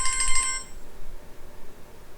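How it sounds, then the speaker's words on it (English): A mobile phone ringtone rings briefly, a bright repeating electronic melody for under a second, fairly close, then cuts off leaving quiet room tone. "I'm so sorry, I forgot to switch my phone off."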